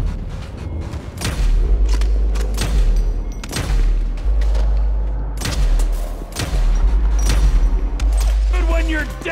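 Rapid gunfire in GTA V during a bank robbery shootout with the army, loud repeated shots and bursts in quick succession, with voices shouting over them.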